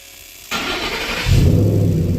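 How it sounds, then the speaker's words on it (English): After a quiet moment a Ford F-150 pickup engine cranks and fires up, settling into a loud, deep, rumbling exhaust note from a Roush aftermarket exhaust, close by. "this exhaust sounds a lot like the Rouch Mustangs"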